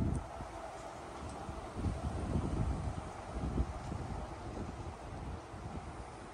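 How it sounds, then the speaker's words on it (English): Steady wind roars and buffets the microphone at an outdoor cannabis garden in Northern Ontario, a low continuous rumble that swells slightly in the middle, with no voices. "You can see it's a little windy"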